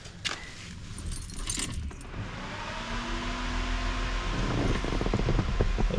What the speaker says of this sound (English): give this thing a flick of the key and see if she kicks in the guts